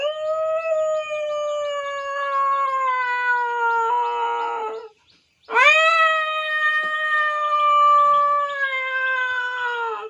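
A man mimics two cats fighting, with long wavering howling yowls and a brief rough snarl, broken by a short pause, then a louder rising caterwaul that holds on close and clear.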